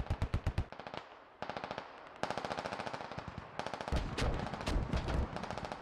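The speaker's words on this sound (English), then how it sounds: "we've got a strategically placed artillery round drop right there on the corner" Rapid bursts of automatic gunfire in the Squad video game crackle in quick repeating volleys, broken by short pauses, with a heavier low artillery round impact thudding in partway through.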